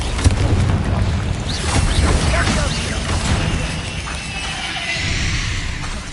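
Spells cast in combat in Hogwarts Legacy, a dense wash of magical whooshes, crackles and booming impacts layered over a steady rumbling game score, with some quick rising swishes in the middle.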